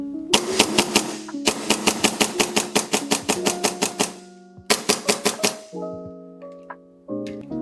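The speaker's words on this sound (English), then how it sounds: "shoots really, really good. Shoots around 320 to 330 FPS." A custom Thunderstruck airsoft Hi-Capa pistol, built by LA Capa Customs and shooting around 320 to 330 FPS, fires rapid strings of sharp, snappy shots in quick bursts with brief pauses between them.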